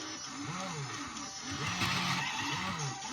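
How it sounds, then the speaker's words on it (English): A Tomica Fast & Furious drift turn stage display toy plays a drifting car sound effect, with looping tire squeals and engine revving from a small speaker, steady and fairly loud with a hissy background. "So it's doing more drifting,"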